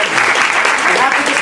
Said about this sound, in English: give yourselves a big round of applause and well done